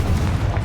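Confringo blasting spell detonating in the video game Hogwarts Legacy, a dense low booming burst that fills a brief moment with rumbling energy, loud and close with no talk over it.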